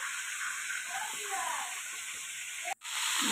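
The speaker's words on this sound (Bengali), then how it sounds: "মাছের মাথা ভাজা হচ্ছে" Fish heads fry in oil in a large pan while dishes are cooked for a baby shower feast. A loud, steady, close hiss fills the whole stretch and stops briefly near the end.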